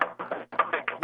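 A NASA recording of a fast-rotating pulsar comes through as rapid, rhythmic knocking, a dense run of crackly pulses about five or six per second with one brief gap midway, fairly faint.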